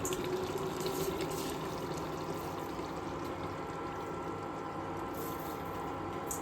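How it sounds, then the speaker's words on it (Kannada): Water poured from a large cup into a pot of chicken and washed rice for home-style chicken biryani, a steady continuous splashing pour that runs throughout, close and fairly quiet. "ಸೊ ನಾವಿದಕ್ಕೆ ದೊಡ್ಡ ಕಪ್ಪಲ್ಲಿ 3 ಕಪ್ಪು ನೀರನ್ನು ಹಾಕಿದ್ದೇವೆ."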